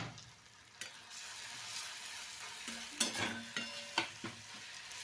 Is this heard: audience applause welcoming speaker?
no